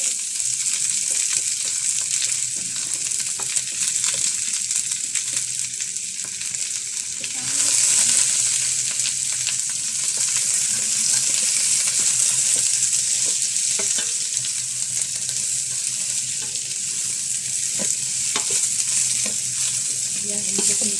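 Sliced onion sizzles steadily in a hot pan for an Arabic-style yellow rice dish, a dense continuous frying hiss with occasional stirring scrapes, growing slightly louder midway as the onion hits the oil.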